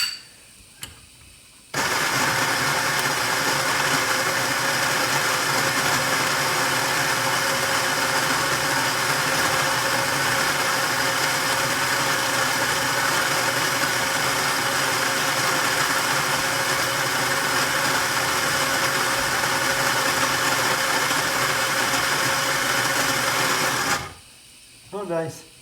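Electric coffee grinder running steadily, grinding beans for a La Pavoni espresso in Antigua Guatemala, a continuous close whirring drone lasting over twenty seconds, then cutting out.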